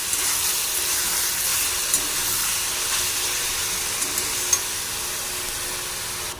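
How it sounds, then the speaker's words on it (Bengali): Boiled vegetable stems stirred in a pan over a red-chilli tempering, a steady close sizzle and hiss with faint scraping strokes, no voices. "ওই ডাঁটাটা দিয়ে দিলাম। এবার নাড়িয়ে নেব।"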